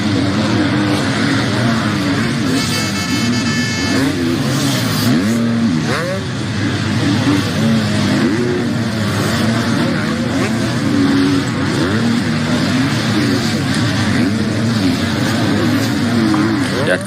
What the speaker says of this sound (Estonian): Seal on jah 125 hääli kuulda juba ilusti.